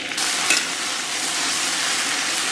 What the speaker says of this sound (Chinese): 然后把切好的姜和蒜片给下到锅中，简单咱们给它爆香